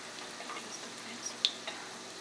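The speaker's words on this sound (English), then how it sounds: "fry them until they get golden brown color" Pakoras, Punjabi gram-flour dumplings, deep frying in hot oil give off a soft steady sizzle with a few faint pops, quiet and close with no voices.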